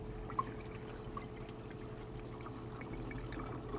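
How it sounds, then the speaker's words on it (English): Water trickles and pours steadily down into a saltwater aquarium sump with baffles, a low continuous flowing wash heard alone and fairly quiet. "we are already getting some water down to the sump"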